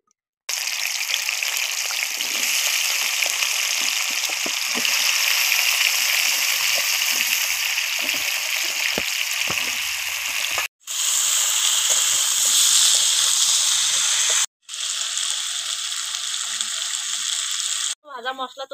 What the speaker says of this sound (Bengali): আর কাঁচকলা আলু একসঙ্গে ভেজে নেবো।